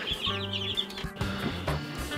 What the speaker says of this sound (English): But here is this hen.